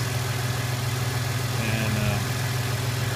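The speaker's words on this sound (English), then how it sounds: "I've let it sit here and warm up to operating temperature, just idling" A 1999 Toyota 4Runner idles at operating temperature after new injectors, an ignition coil and an Airaid intake tube were fitted to cure a misfire. The engine gives a steady, close, low hum throughout, with a faint voice briefly heard.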